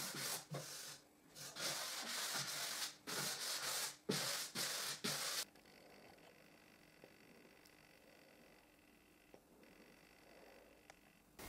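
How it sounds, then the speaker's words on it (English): Fine-grit sanding block rubbing along the sharp edges of a wooden display cabinet part, a series of close, loud back-and-forth strokes for about five seconds, then quiet room tone. "I use that sanding block, that is the finest grit that I have, slightly sanding the sharp edges."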